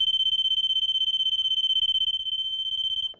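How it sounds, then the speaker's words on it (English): A sliding door alarm guarding a pool area sounds after the door is left open, a steady piercing high-pitched tone held unbroken for about three seconds, loud and close, then cut off. "When this is open, after about 7 seconds, that alarm will sound."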